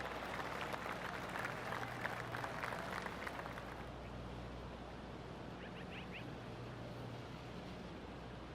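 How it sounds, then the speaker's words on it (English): Gallery applause in the golf game PGA Tour 2K23, a quiet smattering of polite clapping over a windy outdoor ambience that fades after a few seconds, leaving a low breezy hush with a faint chirp. "Oh, golf clap."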